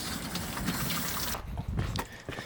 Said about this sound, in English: We'll give that a bit of water and that a bit of water.